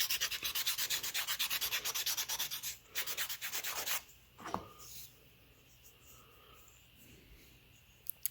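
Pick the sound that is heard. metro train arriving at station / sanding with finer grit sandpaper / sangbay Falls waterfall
sanding with finer grit sandpaper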